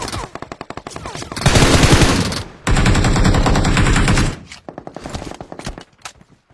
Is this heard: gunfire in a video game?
yes